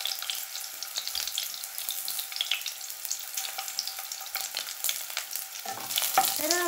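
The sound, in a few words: onions frying in oil for curry leaf chutney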